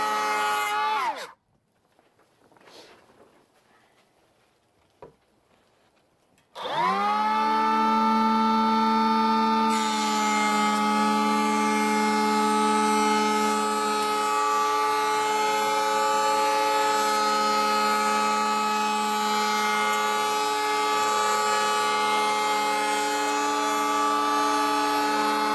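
After a few quiet seconds with faint knocks, a power sander starts up on wood trim and runs steadily with a loud, even whine close by.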